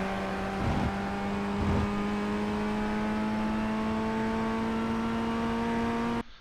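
A Ray FF1600 racing car's engine holds a steady, buzzing drone in a racing game at Imola, with two brief bursts early on as it shifts up, then a sustained tone that cuts off abruptly.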